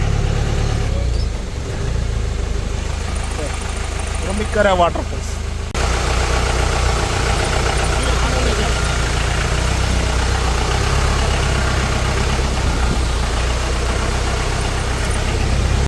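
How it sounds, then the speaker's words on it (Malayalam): Off-road jeeps idle and park near Urumbikkara waterfalls, a steady low engine rumble running throughout under continuous nearby talk, with a brief higher whine partway through. "നമ്മുടെ വണ്ടികളൊക്കെ ഓരോന്നും പാർക്ക് ചെയ്യുന്നുണ്ട്"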